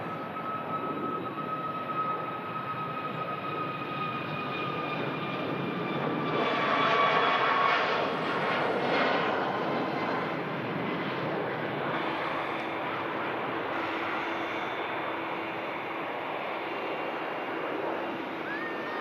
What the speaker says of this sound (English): Tui Max on the roll out to Sharm el Sheikh.